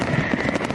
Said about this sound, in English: Oh, I got to give myself some fireworks.